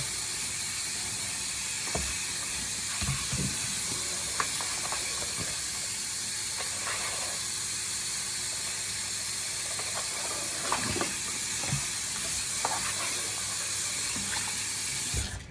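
Chicken is rinsed under a running kitchen faucet for a stew. The water hisses steadily into the sink for the whole stretch, with scattered soft knocks and splashes from handling, and no one speaking.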